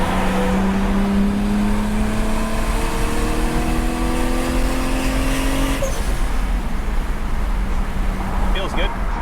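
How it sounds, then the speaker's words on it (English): A turbocharged Nissan Skyline R33 pulls hard from inside the cabin, engine note rising in pitch through the revs before a shift, then building again, loud and continuous with someone talking over it. "And the turbo kicks in right now."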